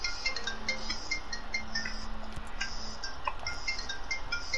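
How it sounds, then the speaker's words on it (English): Phone ringtone in a video game session, a steady repeating electronic ring heard over busy game effects and background noise. "Somebody don't answer that phone."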